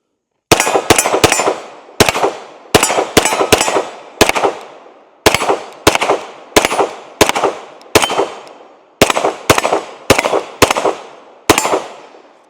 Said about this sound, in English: Let's go ahead and take a few more shots with it.